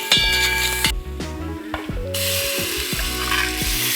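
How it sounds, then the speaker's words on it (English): Chicken and chopped onions searing in a hot pan for a green chicken curry, a loud steady sizzle with clanks and scrapes of a utensil stirring against the pan, no talking. "You are actually searing off the chicken"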